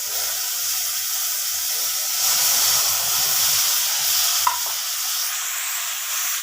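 Spice paste with cumin and black cumin frying in a pan for a pea vegetarian dish, a steady close sizzle and hiss with soft stirring scrapes and one brief clink near the end.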